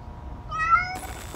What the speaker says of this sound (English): It looks like this kitten is in big trouble.